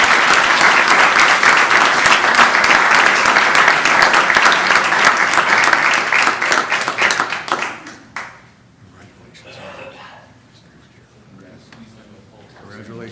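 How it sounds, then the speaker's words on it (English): A council meeting audience gives loud, sustained applause for a high school student, many hands clapping together for about eight seconds before it fades out and quiet voices and room noise follow. "Give him a round of applause."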